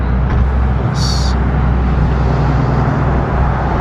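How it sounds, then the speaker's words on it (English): Steady, loud road traffic on Route 66 in a small town: a continuous broadband roar of passing vehicles with low rumbles and a brief high whine near the start. "A lot of traffic here."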